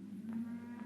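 A single low cow moo, drawn out and fairly close, with a steady low drone underneath.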